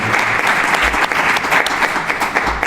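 Audience applause at a Granada talk about an exhibition of great film poster artists, a dense, steady wash of many hands clapping close by, filling the whole stretch without talk.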